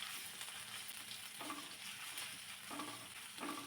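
Ginger and green chillies sautéing in a pan for a homemade burger filling, a faint steady sizzle with a few soft stirring scrapes of a spoon against the pan, no voices.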